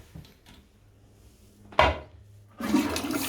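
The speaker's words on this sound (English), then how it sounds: "Toilet flush is fine" A toilet in a rented flat is flushed: a few small clinks, then a short rushing burst of water, followed by a louder, steady wash of flowing water.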